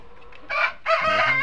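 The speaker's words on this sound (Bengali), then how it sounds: "এই দেখেন মুরগ" A tiger breed hen on a farm gives two short, loud clucking calls close by, separated by a brief pause, with no talking.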